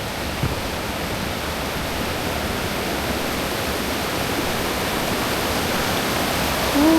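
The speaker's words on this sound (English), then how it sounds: "Rapids." River rapids on a mountain hike, a loud, steady broadband roar of rushing water that fills the whole stretch without pause.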